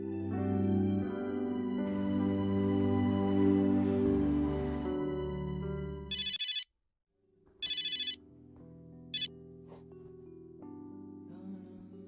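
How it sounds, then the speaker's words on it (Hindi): A landline telephone rings in three electronic trilling bursts, the last one brief, after a stretch of loud music that cuts to near silence, then quieter music returns. "लैंडलाइन पर कोई फोन आया था तुम्हारे लिए।"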